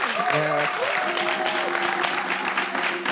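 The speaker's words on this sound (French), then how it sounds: "Applaudissez pour vous-même" Studio audience of finalists on a French rap talent show applauds itself, steady dense clapping throughout while a host's voice rises briefly over it near the start.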